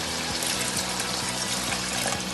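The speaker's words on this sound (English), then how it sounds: "Add the water." Water pours steadily into a pan of mince meat, a continuous close splashing fill with no speech.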